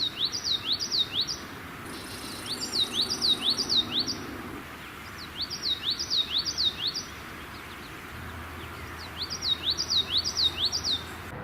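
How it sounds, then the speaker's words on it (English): A common yellowthroat sings in a scrubby field, repeating its rhythmic, high-pitched, wavering phrase in several bursts separated by short pauses, clear and fairly close over a soft outdoor background. "The song of the common yellowthroat can be heard throughout all of our scrubby fields."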